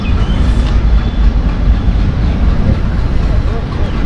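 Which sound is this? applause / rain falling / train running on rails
train running on rails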